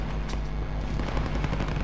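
Gunfire in the Call of Duty: Modern Warfare multiplayer game, set in Warsaw, comes as rapid, tight bursts of shots over a dense, loud background of battle noise and low booms, with no talk over it.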